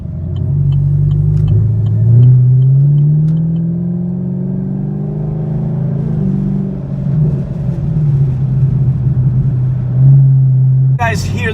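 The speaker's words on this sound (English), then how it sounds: "hear the inside of the car when I'm gassing it, or not gassing it, but just on, you know, cruising shit and revving a little bit" Inside a 2017 Chevrolet Camaro SS, the V8 engine drones steadily while cruising, rising and falling in pitch with a few light revs, loud and close throughout, with a brief sharper burst at the very end.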